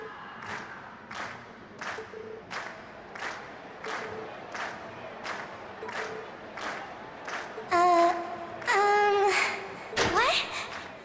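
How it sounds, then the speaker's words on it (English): A crowd at a festival concert in the video game Trails of Cold Steel gives loud, rhythmic, evenly spaced cheers or claps, followed by a few bright, tonal bursts near the end. "we've heard your cheers loud and clear"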